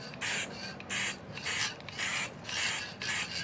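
Krylon UV-resistant clear gloss sealer sprayed from an aerosol can in a series of six short, even hissing bursts with brief pauses between them, close and fairly quiet.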